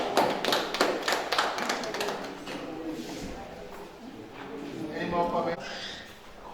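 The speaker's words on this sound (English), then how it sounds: "Let's give a resounding applause." A workshop audience at a malaria event in Ogun State gives a short burst of scattered claps near the start, which soon thins out under ongoing talk and room murmur.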